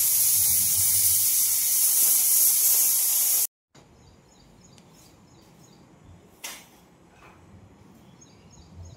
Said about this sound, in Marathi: तर आता डाळीच्या कुकरचे पण शिटी येईल.